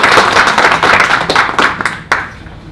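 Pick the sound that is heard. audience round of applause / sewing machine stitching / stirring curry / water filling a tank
audience round of applause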